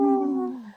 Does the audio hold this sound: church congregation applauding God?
no